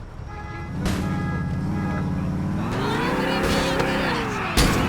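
A car driving in GTA IV, a loud close engine drone that rises and falls in pitch as it revs and accelerates, with brief bursts of noise.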